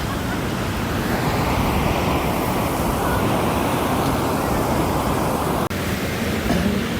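Steady roar of ocean waves and surf at Tondaligan Beach, Dagupan, continuous and fairly loud, with a wind-like hiss running underneath for the whole stretch.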